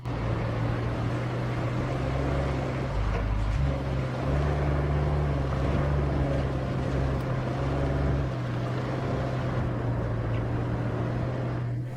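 A heavy vehicle engine in the RoadCraft video game runs at full throttle, a loud, steady low droning roar that holds for the whole stretch, with pitch shifting briefly partway through.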